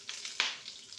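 Okra frying in hot cooking oil, giving a steady close sizzle with a sharp louder crackle burst as pieces hit the oil.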